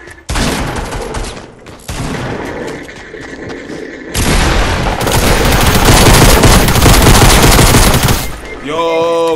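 Sustained bursts of handgun, pistol and revolver fire in the Fortnite video game, loud and dense, with a short lull before heavier continuous shooting, and a voice briefly heard at the end.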